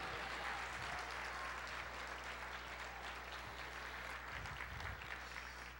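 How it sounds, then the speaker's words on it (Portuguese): A church congregation applauds the Lord with steady, fairly distant clapping that carries on evenly under a low background hum. "Aplauda o Senhor."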